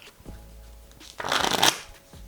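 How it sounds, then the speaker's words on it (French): A deck of playing cards is shuffled during a magic trick, with a short riffle of quick, dense rustling and fluttering in the middle that builds and stops sharply. Faint handling noise comes before and after, and nobody speaks. "Et je vais venir mélanger le jeu de cartes."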